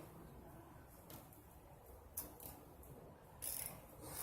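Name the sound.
ratchet with socket turning a bolt on a Nissan Maxima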